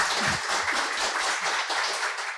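Audience at a panel on preventing corruption in public procurement claps for the moderator, a brisk even burst of many hands that starts loud and tapers slightly at the end.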